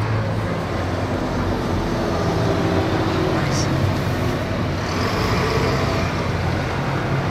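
A coach bus on the X62 route to Hull and Leeds rolls past on a busy road, its steady engine rumble and road roar loud and continuous throughout, with no other sounds standing out.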